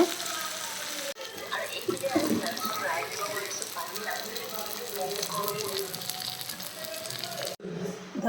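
Honey chicken pieces deep-frying in oil, a dense continuous sizzle and crackle close by, with brief breaks and occasional talk underneath.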